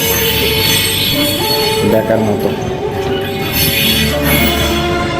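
A train rolls through a railway level crossing crowded with market stalls, steady rumbling and squealing wheels loud throughout, with someone talking over it.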